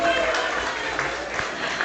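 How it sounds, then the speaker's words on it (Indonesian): Audience applause for attending cadres at a PMII East Java opening ceremony, a loud continuous crowd clapping in a hall with a voice talking over it. "Boleh tepuk tangan untuk kader-kader semua yang hadir di sini."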